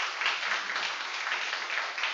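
Sustained applause from a church congregation welcoming a guest professor, an accordion player, during a Sunday morning service; dense, even clapping throughout with no pauses.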